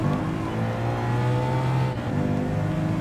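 A Subaru WRX engine in Gran Turismo Sport holds a loud, steady high-rev drone with a buzzy, layered engine tone and a slight dip midway, continuous and close with no talk over it.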